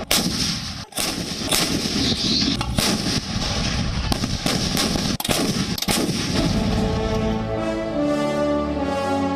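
Indian Army artillery fires in a rapid series of loud booming blasts, then the echoes roll away into a long, fading rumble.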